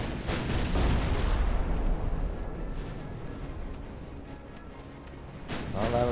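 Battleship guns firing in Ultimate Admiral: Dreadnoughts, a few heavy booming salvos that rumble and fade, with someone talking briefly near the end.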